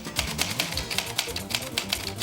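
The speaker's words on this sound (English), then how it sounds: "Is that you typing up there?" A typewriter clatters in rapid, uneven bursts of sharp keystrikes, loud and close, with no voices over it.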